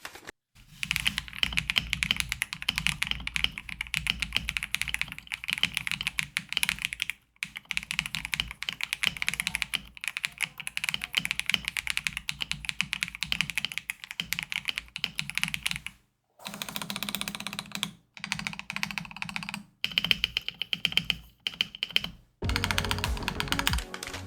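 Rapid clacky typing on a Lego-built Kit Adam X mechanical keyboard, dense bursts of keystrokes with brief pauses between runs, close and crisp with no voices.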